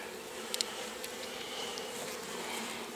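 Honey bees buzz steadily around an opened log hive in March as honey is taken out, a continuous soft drone with a few brief closer buzzes passing by.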